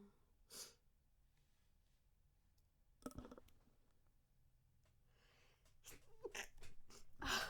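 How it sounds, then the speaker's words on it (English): A person sneezes close to the microphone in a quiet room, with a sharp burst among softer breaths, snorts and small clicks, and a few scattered noisy bursts near the end. "Oh man, I had to sneeze."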